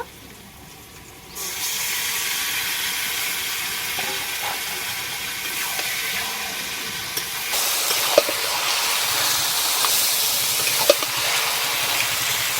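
Marinated chicken hitting a hot pan of fried onion and tomato, letting out a sudden loud hiss that settles into a steady, close sizzle, with a few faint clinks of stirring.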